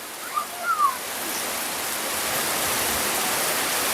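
Midday rain falls over the town of Sungguminasa as a steady, even hiss that thickens after a few faint early sounds, continuous and close with no talk.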